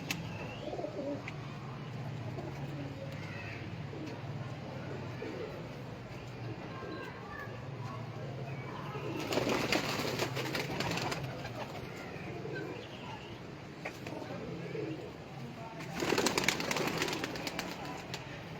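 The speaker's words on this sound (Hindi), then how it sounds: "ये जी शेखों वाले सियालकोटी कबूतर है माशाल्लाह।" Sialkoti pigeons coo softly in their loft, with a low, repeated burbling under steady background noise. Two louder bursts of wing flapping come partway through and near the end.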